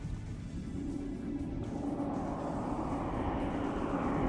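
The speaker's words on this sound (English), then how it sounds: "There's the plane taking off again." A plane takes off in a military video game, a steady low roar and rumble swelling gradually and growing slightly louder, distant and continuous with no talk.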